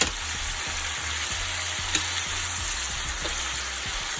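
Chopped vegetables fry in oil for a Jamaican saltfish dish, a close, steady sizzle with a faint stirring tap or two and no voices.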